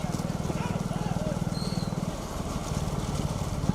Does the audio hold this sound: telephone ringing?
no